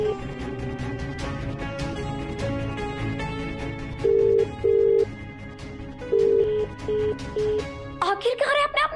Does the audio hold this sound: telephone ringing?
yes